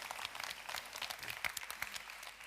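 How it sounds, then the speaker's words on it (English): Audience applause at a food innovation convention event, a steady wash of many hands clapping at moderate distance, fairly soft and even throughout. "Round of applause."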